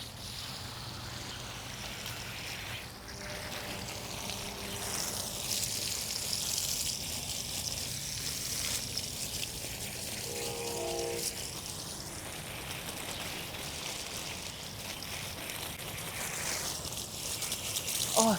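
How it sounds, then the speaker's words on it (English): Water sprays from a hose onto dry garden soil and hydrangea plants, a steady close hiss that runs the whole time with no pauses. "rain doesn't do anything for dry soil, so I'm watering these babies"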